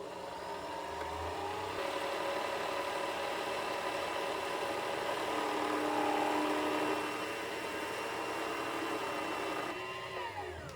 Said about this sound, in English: you'll hold the foot pedal down until the bobbin stops spinning